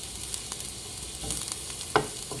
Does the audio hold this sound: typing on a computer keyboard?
no